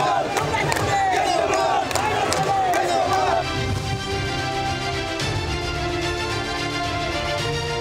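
A large crowd at a Trinamool political rally procession in Birbhum chants slogans loudly in unison, a dense roar of many voices with rising shouted calls carrying steadily throughout.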